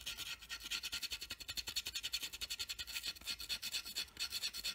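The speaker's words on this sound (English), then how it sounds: "Just working away very quickly, takes the paint off the top of those dome-headed rivets." Rapid rhythmic rubbing on the painted dome-headed rivets of a plastic Airfix Hawker Hurricane Mk.1 Tropical model kit, a fine close scratching that repeats steadily and stays quiet, with no voices.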